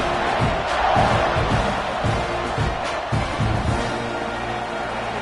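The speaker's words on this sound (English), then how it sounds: "this crowd is feeling themselves after that last drive" A stadium crowd in a college football video game roars and cheers after a kickoff, a dense, loud wash of massed voices that swells early and then settles into a steady, sustained din.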